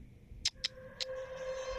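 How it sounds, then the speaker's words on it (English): A cat in the video game Judgment gives three short, high meows close together, each a brief bright chirp, over a quiet steady background hum. "I know I heard a cat."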